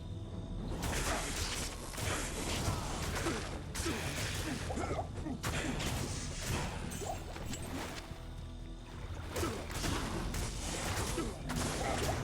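Fire attacks in Diablo 2 Resurrected, heard as a dense, continuous barrage of crackling blasts, whooshes and crashing impacts that stays loud throughout, with someone talking over the game sounds.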